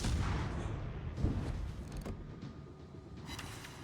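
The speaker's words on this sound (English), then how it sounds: "Continue to pile in damage with the guns" Destroyer deck guns fire in the naval combat game World of Warships, a few booming shots spaced irregularly over a continuous heavy rumble of engine and sea noise, loud and close with no voices.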